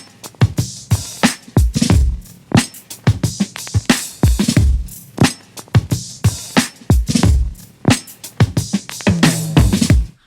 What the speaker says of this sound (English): So altogether the drums sound like this again.